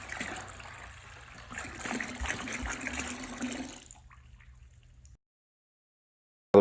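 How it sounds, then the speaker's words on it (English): Water poured from a gallon jug into a wash bucket already holding water and Optimum No Rinse car wash solution, a steady splashing stream for about four seconds that fades to a trickle and stops, followed by silence. "what I do is I add the 2nd gallon of water"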